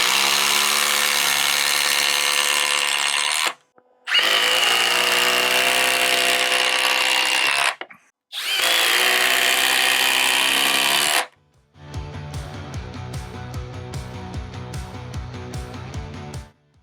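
A DeWalt power drill drives 6-inch Spax screws into timber in three long, loud, steady whirring bursts with short pauses between them, followed by a lower, rattling run as a screw finishes seating.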